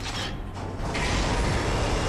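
A door mechanism in Darksiders Warmastered Edition grinds open, a steady mechanical rumble with creaking and ratcheting texture that swells after a brief quieter start and holds loud to the end.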